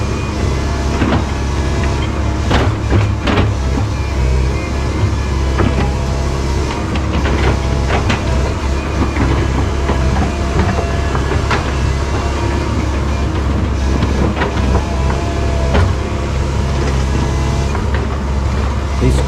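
A heavy machine scraping down to gravel while working on a bed log setup, a continuous loud mechanical rumble and grinding with scratchy rasping textures throughout, steady and close.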